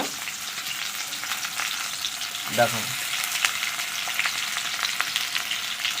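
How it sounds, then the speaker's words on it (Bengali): Onion frying in hot oil in a wok, a steady broadband sizzle running throughout with a brief spoken word partway through. "কড়াইতে তেল দিয়েও দিয়েছে একটু পেঁয়াজ দিল"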